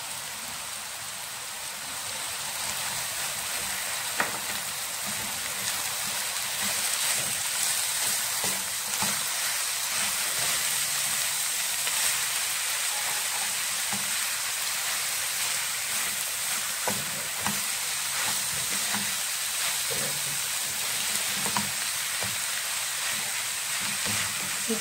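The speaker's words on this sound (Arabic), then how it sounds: "نخلي تشحر شوية مع الكفتة ضد الكفتة نخلي تشحر شوية" Vegetables and kofta frying in a pan, a steady close sizzle with faint stirring clicks running throughout, with no voices.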